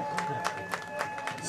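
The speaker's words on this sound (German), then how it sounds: "Kräftiger Applaus für sechs Kölsch!" Audience applause at a live stage show as a group is introduced, a short burst of rhythmic crowd clapping with a steady tone running underneath.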